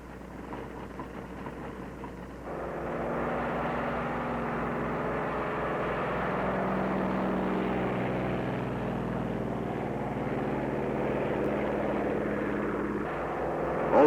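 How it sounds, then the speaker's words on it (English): Propeller planes on an aircraft carrier deck throttle up into a steady, loud engine roar that swells after a quieter start and holds for several seconds, with no talk over it. "Also taking off from the carrier are control planes that will guide the radio-controlled drone boats."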